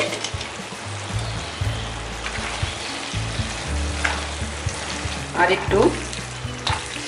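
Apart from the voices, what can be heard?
stirring kochu shak with moong dal in a pan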